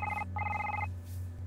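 Phone ring tone heard while dialing an extension in a horror video game, two bursts of a warbling electronic trill, the second longer, over a steady low hum, then the ringing stops.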